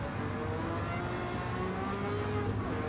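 A Ford Mark IV race car engine in Gran Turismo 7, racing at Le Mans, holds a steady, sustained high-speed drone with no audible voice.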